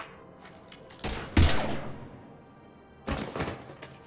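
Gunfire in Mass Effect 3, heard as a few heavy shots or impacts. One loud burst comes early and a second follows about two seconds later, each ringing out over a quiet background.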